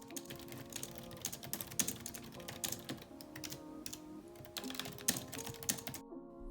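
Typing on a Logitech K780 multi-device keyboard: a steady run of soft, close keystroke clicks at an even pace, quiet overall, stopping abruptly near the end.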